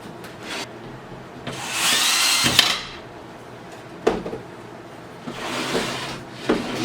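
A power drill tightens screws on a Mainstays Alexandra patio set, with short whirring bursts separated by pauses, clicks and rubbing handling noises, close by and fairly quiet.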